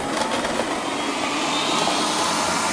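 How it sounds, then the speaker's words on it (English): Liectroux B6009 robot vacuum cleaner running steadily on lino while picking up scattered crumbs, a continuous close whirring hum with faint rattling of debris. "I've now scattered quite a lot of crumbs on some lino to see how it copes with these."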